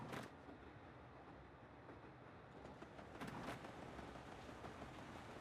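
Video-game train from Paper Mario: The Thousand-Year Door rumbles steadily along with a continuous rolling clatter, a soft hiss of movement and a couple of brief sharper bursts partway through, with no voices.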